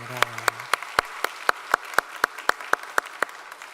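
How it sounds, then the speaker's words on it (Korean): A church congregation at a Wednesday service claps in a slow, unified rhythm, about a dozen sharp, evenly spaced claps, with a brief voice at the start. "우리 수고한 분들을 위해 크게 박수로 격려하도록 하겠습니다"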